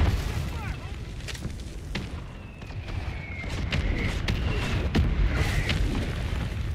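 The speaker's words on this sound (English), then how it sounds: "these mortars gotta go" Mortar explosions in a Call of Duty match, several sharp booms scattered over a rumbling low-end din, with whistling incoming streaks and a voice briefly audible underneath.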